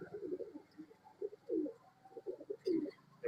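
Pigeons offered for sale in Bangalore coo in short, repeated throaty bursts, close and fairly clear, with no talking over them.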